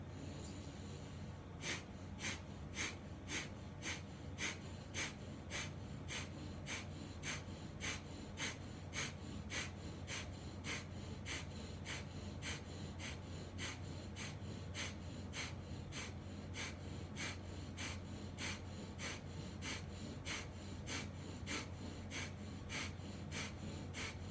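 Stuffy-nosed breathing during yoga pranayama, a steady series of sharp, rapid nasal exhalations that sound like snorts or snoring, evenly paced and close, over a low constant hum with no talk.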